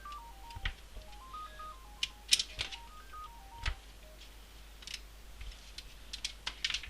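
A telephone ringtone plays a stepped electronic melody twice in a row, fairly quiet, with a few soft clicks scattered around it and no voices.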